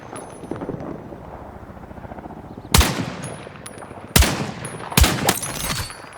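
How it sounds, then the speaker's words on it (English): Gunfire in a video game battle on the Golmud Railway map: a low rumbling background of distant shooting broken by three loud, sharp bursts of shots, with no talking. "I could hear an Icarus bullet"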